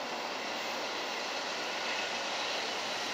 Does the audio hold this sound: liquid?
no